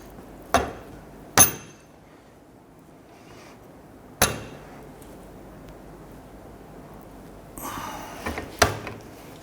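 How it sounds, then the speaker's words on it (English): A pry bar works a front lower control arm bushing out of a 1992-1996 Toyota Camry, giving a few sharp, sparse metallic knocks and clanks spread over several seconds, followed by a short scraping rattle near the end. "We use our pry bar."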